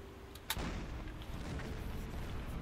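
A submarine deck gun fires once in Silent Hunter 4, a sudden sharp report followed by a rumbling, sustained roar of sea and engine ambience.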